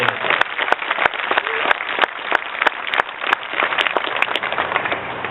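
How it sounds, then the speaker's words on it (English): Applause from an audience honouring the staff of a South Los Angeles sheriff station, a steady wash of clapping with sharp individual claps standing out, sustained throughout at fairly close range. "give them a big, big round of applause for all that they do to help this community"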